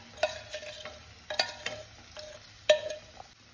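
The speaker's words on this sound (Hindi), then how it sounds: "तो अब हम अच्छी तरह इसको मिला लेंगे" Chana dal halwa being stirred in a kadhai after sugar syrup is added, a spoon scraping and clinking in sharp separate strokes over a soft sizzle, close and clear with no talk.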